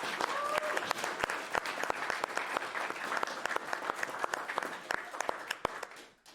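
A crowd at a video game speedrun marathon finale applauds the organizers, with steady, moderately distant clapping that carries on for several seconds before fading out at the end.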